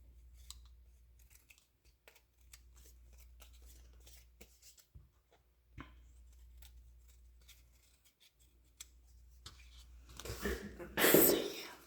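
Faint snips of scissors trim fabric for a wallpaper junk journal in a quiet room, with a soft voice now and then and a louder rustle near the end.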